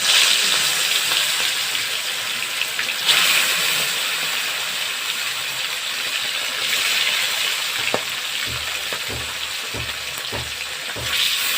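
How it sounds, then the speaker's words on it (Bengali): Bhola fish frying in hot oil for a tomato and potato curry, a steady loud sizzle and hiss throughout, with a few soft clinks and stirring knocks near the end. "মাছটাকে ভেজে নিচ্ছি"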